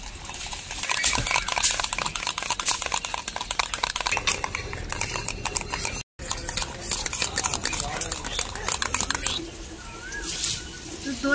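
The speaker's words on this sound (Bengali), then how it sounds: "এই টক দইটা একদম ক্রিমের মতো করে ফেটিয়ে নেব।" Sour yogurt is whisked by hand in a bowl until creamy, for a homemade mango sweet curd. A rapid, steady rhythmic clatter of the whisk against the bowl runs throughout, with a brief pause midway.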